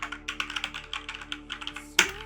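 A computer keyboard is typed on in quick irregular bursts of crisp key clicks, close and fairly quiet over a faint steady hum, ending with one louder key strike.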